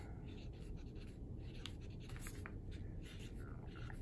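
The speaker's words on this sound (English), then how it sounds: "The other thing we're going to write is our artist, Aaron Douglas." Handwriting an artist's name, with soft scratchy pen or marker strokes in quick irregular bursts, faint and close against a quiet background with no speech.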